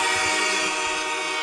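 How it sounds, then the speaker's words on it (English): A train horn blares at a Bills versus Bengals football game, a loud sustained multi-tone chord filling the brief moment without pause. "We got the train horn."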